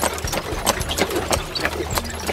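Camels plod along at a steady rhythm while carrying riders past the Giza pyramids in Egypt, the soft footfalls close and repeated over constant outdoor rumble with no talking.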